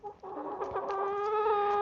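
A flock of chickens clucks in a steady, overlapping chorus inside a shelter kept closed against the snow, close and continuous with no talk over it.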